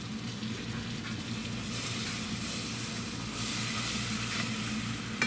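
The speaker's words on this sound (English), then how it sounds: "Start whisking this up." A whisk works flour through butter in a pan for cheese sauce, giving a steady close frying hiss and soft stirring with no talk.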